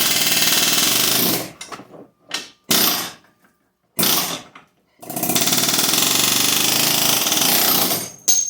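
Loud pneumatic hammering from a power tool pressing out a wheel bearing bolt on a Town and Country front hub, coming in harsh bursts separated by short silences and ending in one long sustained run.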